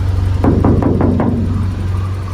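Five quick knocks on the thin, tinny body panel of a 1993 Toyota Corolla 1.6 SEG, close and hollow, evenly spaced over a steady engine hum.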